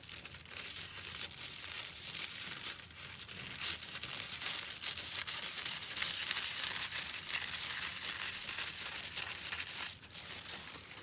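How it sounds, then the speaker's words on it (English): Steady crisp snipping and crinkling of paper being cut, close up and continuous, with no voices. "I'm going to cut around those other two sides"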